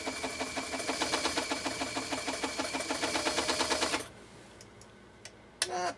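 An Elgin 2468 sewing machine straight-stitches through leather in a fast, rhythmic mechanical clatter for about four seconds, then stops, leaving quiet room tone and a couple of brief knocks.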